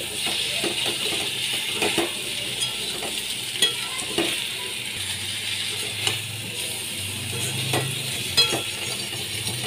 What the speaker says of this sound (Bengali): জিরে গুঁড়ো দিয়েও আমি ভালো করে নেড়ে চেড়ে নিচ্ছি